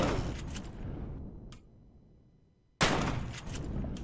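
Bursts of gunfire from indestructible turrets in the video game Empyrion: a loud volley fades into near silence, then a sudden fresh barrage of shots erupts.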